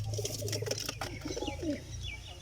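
A pet pigeon with a crooked, twisted neck coos softly at close range, low murmuring calls with a few brighter chirps and faint rustling, with no talk.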